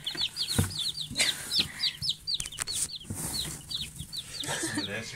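Many young chicks in a brooder nursery peep constantly, their high, rapid chirps overlapping close by, with a few brief bumps and rustles in the background.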